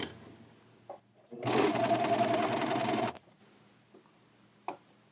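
Sewing machine running a double stitch along a shirt's sleeve trim, one steady burst of about two seconds, close and fairly loud, with faint handling clicks before and after.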